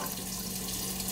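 Two household faucets running with weak, low water flow, giving a steady, even hiss of water with no pauses and no voices.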